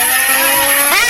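A motorcycle engine revving close by, a steady loud buzzing drone that rises sharply in pitch near the end as the throttle opens.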